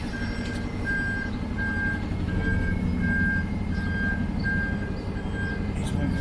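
A delivery lorry backs up on the road to Anglesey, its reversing alarm beeping steadily about once a second over a loud, constant diesel engine rumble.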